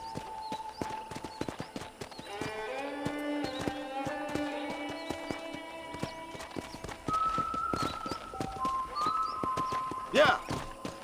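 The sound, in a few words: horse hooves clip-clop while riding, from video game Red Dead Redemption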